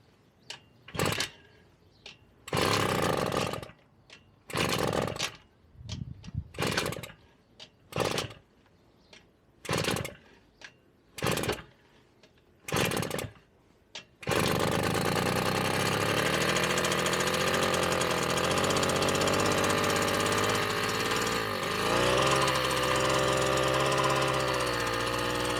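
A Cimatti Mini Chic Italian moped, choke on, is pull-started several times with short bursts before catching, then settles into a steady, buzzing two-stroke run that continues loudly and close, with no voices.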